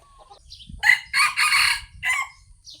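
A rooster crows loudly and close by, one long drawn-out cock-a-doodle-doo with a few faint bird chirps around it.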